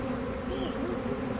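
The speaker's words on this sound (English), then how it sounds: "no more bees are over here except ones that are flying around a little bit" Honeybees buzz steadily around a mobile home during a hive removal, a dense continuous hum of many insects flying close by, with no voices.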